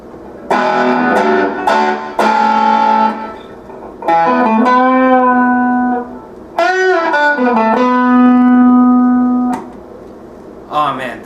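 Electric guitar phrases bathed in spring reverb from an XVIVE Maxverb pedal, notes and chords ringing with a splashy, lingering tail, separated by short pauses.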